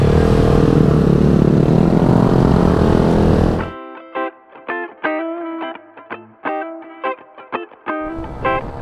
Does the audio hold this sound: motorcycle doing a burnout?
yes